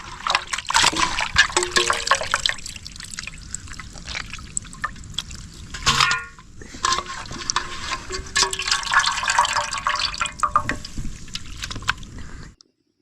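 Raw chicken pieces being rinsed in water: continuous trickling, splashing and dribbling with a brief pause near the middle, close and fairly loud, no talk.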